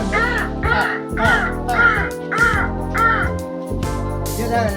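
A voice imitates a crow, giving six rhythmic, harsh caws in a steady sequence, close and loud.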